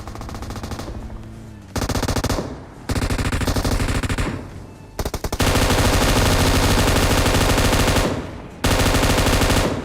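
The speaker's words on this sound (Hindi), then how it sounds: "सामने फायरिंग की साउंड आ रही थी" Heavy automatic gunfire from a PUBG Mobile battle, loud and sustained in long bursts broken by short gaps, with dense rapid shots filling most of the stretch and no talk over it.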